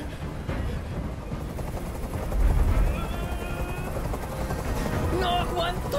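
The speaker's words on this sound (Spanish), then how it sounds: "Dile a ese helicóptero que se vaya de aquí." A helicopter in the video game Detroit: Become Human thrums steadily overhead during a rooftop hostage standoff, its rotor chop mixed with sharp percussive bursts and a deep rumble, while a voice speaks over it.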